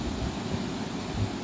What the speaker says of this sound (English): The relaxing sound of the gentle sea breeze sets the tone,